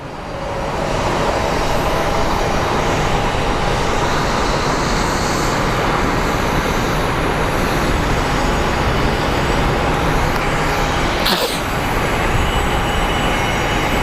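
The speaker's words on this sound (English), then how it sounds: "we do have a plane that just showed up right now" An American Airlines jet at Phoenix Sky Harbor International Airport gives a loud, sustained engine roar that stays steady, with a brief sharp swell near the end.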